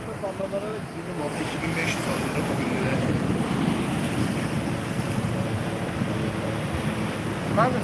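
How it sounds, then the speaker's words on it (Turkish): Sea waves and gusting wind at the seaside, a continuous loud wash of surf with microphone wind buffeting throughout, and faint tonal sounds briefly rising near the start. "Denizdeyim arkadaşlarım."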